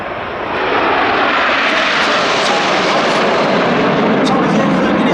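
Red Arrows jets roar overhead at the Duxford Battle of Britain airshow, a loud, sustained broadband engine rumble that swells and holds steady as the formation passes, with a commentator speaking over the PA beneath the jet noise.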